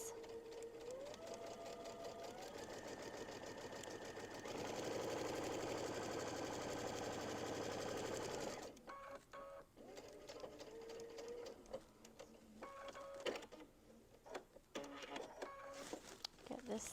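A sewing machine top stitches a zipper pouch upcycled from a snack bag, running steadily and loudly for about eight seconds, then stopping and starting in short bursts.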